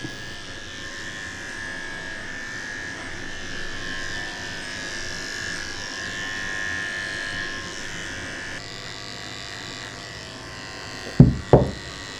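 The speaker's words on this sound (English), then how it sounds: "I'm using a number 7 blade to cut his hair" Electric clippers fitted with a number 7 blade trim a senior Shih tzu mix's coat at a groomer, giving a steady close motor buzz that runs throughout, ending in a couple of sharp knocks.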